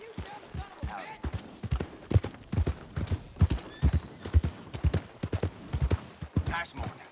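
Horse hooves clip-clop in a quick, uneven gait in the Red Dead Redemption 2 video game, close and crisp, with a brief whinny and voices talking over the hoofbeats.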